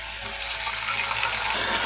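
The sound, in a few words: water rinsing out a mixing jar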